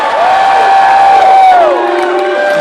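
A loud crowd cheering and shouting, with a high whoop rising and falling over the roar.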